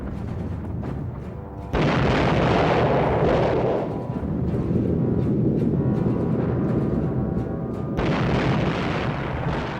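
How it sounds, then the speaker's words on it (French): Massed artillery bombardment on the Western Front at the Battle of the Somme, a dense, continuous roar of overlapping booms and rumbling blasts that swells loudly and persists throughout, with no pauses. "C'est le pire bombardement de l'histoire."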